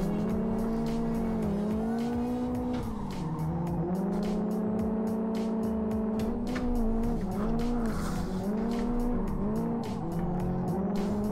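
Car drifting in the Live for Speed racing game during a tandem drift: a loud, continuous engine whine that dips and rises with downshifts, with tire squeal layered over it, close and sustained throughout.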